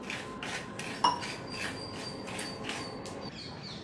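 Foxtail millet dry roasting in an empty pan, giving a steady close scraping rasp of grains being stirred, with a few brief clinks, no talking.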